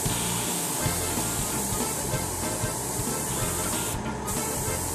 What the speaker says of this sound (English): I'm hooking it up and doing some test spray.